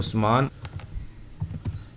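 Quick clicks of typing on a computer keyboard into repair-shop inventory and accounts software, a scattered run of keystrokes following a short opening sound, with no clear talk over them.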